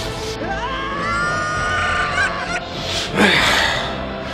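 Zelda game audio carries a chicken squawking and cackling loudly over synthetic music and effects, with a sharp honk-like burst near the end.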